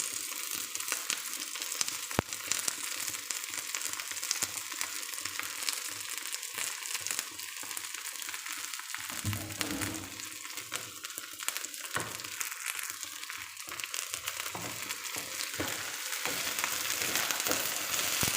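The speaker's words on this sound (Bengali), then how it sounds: "এখন পরিষ্কার করা ভেন্ডিগুলো দিয়ে দিই" Cleaned okra fries in a pan with spices, a dense continuous sizzle and crackle mixed with stirring and crunchy rustling, steady and close throughout.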